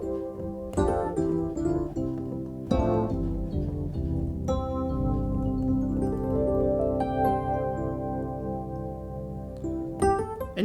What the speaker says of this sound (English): I actually prefer to use this electric piano sound to demonstrate this